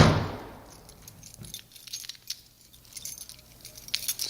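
A bunch of keys jangles close by in several short metallic bursts, loudest at the start and again near the end, heading out of an office.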